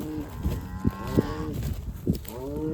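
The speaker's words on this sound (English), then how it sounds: "these cows are ready to take off with the spring grass in front of them" Charolais cross cattle moo on spring pasture, several drawn-out low calls overlapping at moderate distance with no voices.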